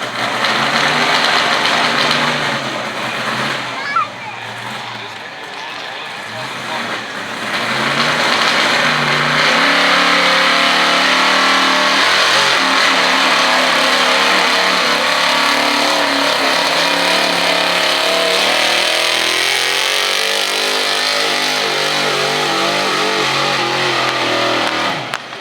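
A pulling truck's engine roars at full revs through a truck pull run at a county event, a loud sustained howl that dips briefly early on and then holds high and steady for the rest, with no talk over it.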